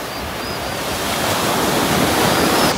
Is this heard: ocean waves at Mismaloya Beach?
yes